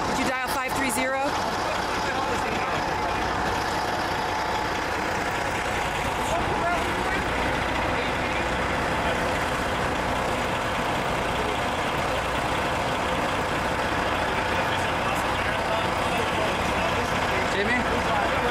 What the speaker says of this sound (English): They're releasing the buses